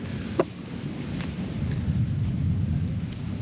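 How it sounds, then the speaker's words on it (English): Distant thunder booms low and steady on a remote island while camping near caves, a broad rumble swelling and lingering throughout, with wind noise on the microphone and no talking. "You can hear that thunder booming in the background."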